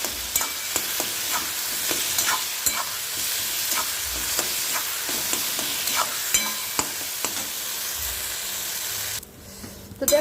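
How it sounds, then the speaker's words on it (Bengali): A metal spatula mashes roasted eggplant into bharta, with continuous scraping and stirring against the pan, broken by frequent sharp clicks and taps. A brief quieter gap comes before a few final knocks. "তা হাত দিয়ে ভর্তা করলাম না, তো খুন্তি দিয়েই করে নিলাম"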